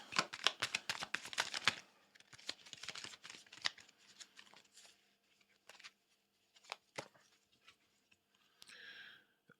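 Tarot cards are shuffled in quiet, crisp riffling bursts, busiest in the opening seconds, then scattered lighter flicks and taps with pauses of near silence between them.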